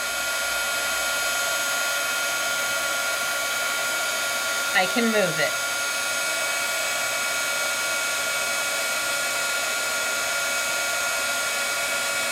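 Heat tool melting embossing powder in papercraft, a loud constant blowing hiss throughout, with a brief rattle partway through and a short spoken comment.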